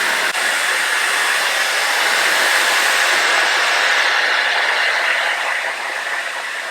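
A handheld hair dryer blows in a continuous loud, breathy rush during a blowout of ash brown dyed hair, shifting slightly in tone as the nozzle is angled downward.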